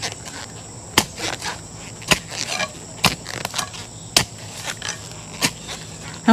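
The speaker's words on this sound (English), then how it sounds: "I don't know if you can hear all of the roots that I'm just kind of chopping through right now" Sharp, irregular chopping thuds cut through roots in moist garden soil, each strike close and crisp, spaced about a second apart over a faint steady background hum.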